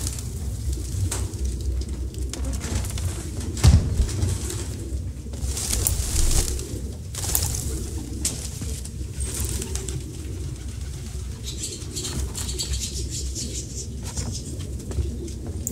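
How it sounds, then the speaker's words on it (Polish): Pigeons coo repeatedly in a flock inside a squalid apartment in the video game Detroit: Become Human, soft throaty calls recurring near and far over a faint background hiss, with occasional fluttering. "Stada gołębi."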